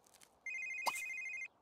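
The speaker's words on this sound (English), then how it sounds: "Answer the phone." A telephone in The Sims 3 rings once with a single steady electronic tone lasting about a second, accompanied by a brief click, otherwise quiet.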